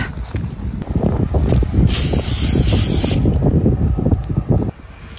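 Aerosol spray can hissing in one steady burst of about a second while cleaning, loud and close, set against a constant low rumble of vehicle or wind noise, with no talking.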